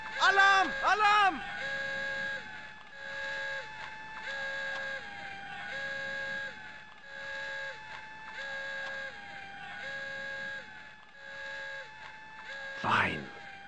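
An alarm sounds in the Commandos: Behind Enemy Lines game, a repeating electronic two-tone pattern pulsing at a steady rhythm for the whole stretch, with a brief burst of other game noise near the end.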